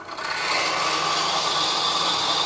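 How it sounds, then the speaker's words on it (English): A steady, loud whirring grind of a power drill boring into wood for a pendant ornament, continuous throughout with no talking. "I'm going to drill to the mark I have"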